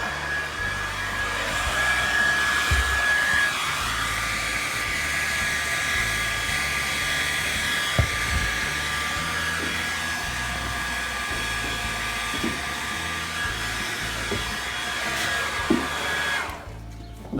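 A hair dryer blows in a steady, continuous whir for a long stretch while drying a horse, with a few faint clicks and knocks, then cuts off at the end.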